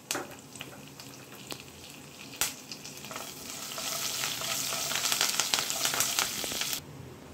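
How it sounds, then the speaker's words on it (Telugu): Lentils and curry leaves sizzle and crackle in hot oil while cooking rava upma, a steady close frying hiss that swells louder and denser partway through, with a few sharp pops and stirring clicks before stopping abruptly. "ఇలా వేగుతున్నప్పుడే కర్రీ లీవ్స్ అనేవి వేసేసుకుందాం"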